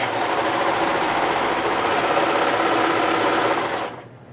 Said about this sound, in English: put it under the sewing machine